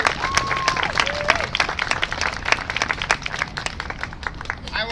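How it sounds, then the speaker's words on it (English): A crowd at an outdoor rally against police brutality claps steadily, a sustained wash of applause with scattered louder claps and brief cheers. "why don't everyone give themselves a round of applause for being here today"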